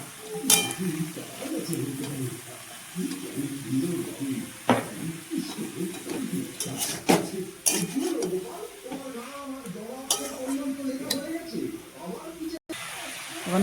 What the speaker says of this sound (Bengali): পরিমাণ মতো নুন দিয়ে দিব এক চামিচ আর একটু এক চামিচের মতন হলুদ দিয়ে দিব তো নাড়াচাড়া করবো এখন